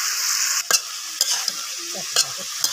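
A mixed vegetable fry of potato, beans, cauliflower and carrot is stirred in a pan over a clay stove. Bright sizzling hiss runs throughout, broken by several quick spatula scrapes close by, with no talking.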